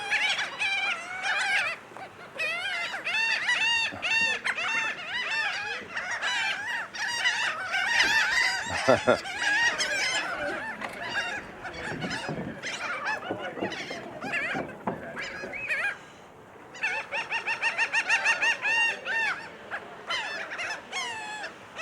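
Seagulls crowd the Wildwood, New Jersey boardwalk, screeching and squawking loudly in overlapping bursts nearby, with a brief lull before a fresh flurry of cries.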